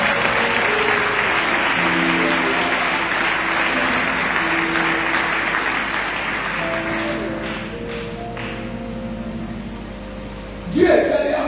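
Church congregation applauds in a long, dense burst of clapping over a steady organ or keyboard drone, gradually thinning before a sudden louder sound at the end.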